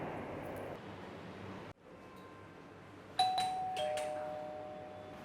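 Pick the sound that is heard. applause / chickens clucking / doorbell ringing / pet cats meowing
doorbell ringing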